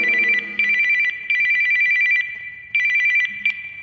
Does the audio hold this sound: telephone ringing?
yes